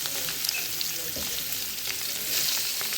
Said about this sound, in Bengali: দেন আমি মাছের এক সাইডটা ফ্রাই হয়ে গেছে, দেন অন্য সাইডটা উল্টিয়ে দিলাম।